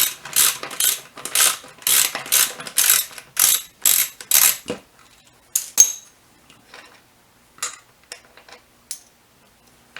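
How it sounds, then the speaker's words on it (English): Ratchet with a 10mm socket loosening the air filter cover bolts on a Kawasaki Vulcan 800 motorcycle. It gives rapid, close, loud clicking strokes in regular bursts, then a few scattered light metallic clicks. "to take the air filter cover off, it takes a 10mm socket"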